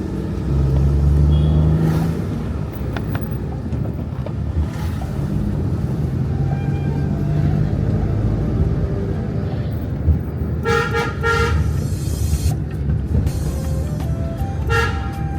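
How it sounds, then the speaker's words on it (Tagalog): Fast street traffic in Kathmandu gives a constant loud roar of passing vehicles. Several sharp horn toots come late in the sequence, some in quick repeated blasts. "Ang bibilis ng mga sasakyan."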